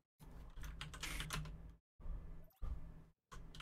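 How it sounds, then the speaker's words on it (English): Intense, rapid typing on a computer keyboard: a dense, continuous clatter of keystrokes close by, broken into bursts by a few brief pauses. "Intense typing, exactly."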